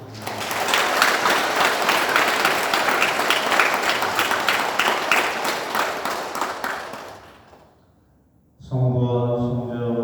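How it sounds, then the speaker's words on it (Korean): A church congregation at a Sunday Mass claps for a newly introduced priest, dense steady applause filling the hall for about seven seconds before fading out, followed by a short silence and then musical tones. "박수로 감사합니다"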